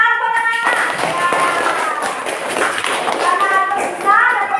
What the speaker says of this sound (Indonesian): Tepuk tangan ke Albert, anak-anak